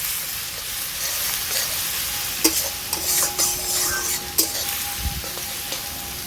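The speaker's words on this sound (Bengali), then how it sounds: "পেঁয়াজটাকে আমি ভালো করে নেড়ে চেড়ে নিচ্ছি" Chopped onions sizzle steadily in a pan for chana soya masala, with a few sharp scraping strokes of a spoon cutting through the continuous frying hiss.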